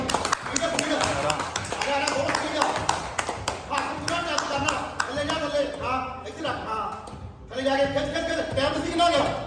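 Sharp hand claps repeat quickly during a clap push-up challenge at a gym, mixed with voices talking and shouting. The clapping continues through most of the stretch with a short lull near the end.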